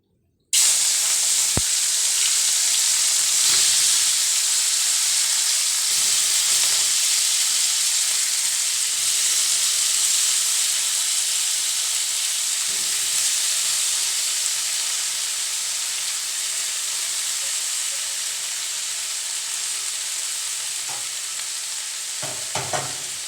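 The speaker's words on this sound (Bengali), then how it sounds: "এবার আমি তেলের মধ্যে মাছটা দিয়ে দেব।" Amudi fish sizzling loudly in hot oil in a kadai on a gas stove, a steady, dense frying hiss that runs unbroken throughout, with a few faint clinks near the start and end.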